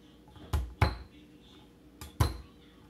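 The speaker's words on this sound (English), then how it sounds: "I'm going to put that in the pot." Chopped ginger knocked from a knife or board into a cooking pot makes two pairs of sharp metallic clanks, close by in a quiet kitchen.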